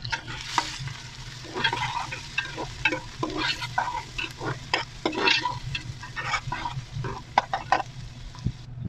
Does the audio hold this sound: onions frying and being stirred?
yes